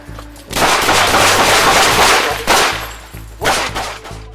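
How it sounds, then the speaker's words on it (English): Gunfire during a police shootout in California, with a few loud, close blasts, including one long burst and two sharper cracks, and no talking. "A police shootout erupts in California."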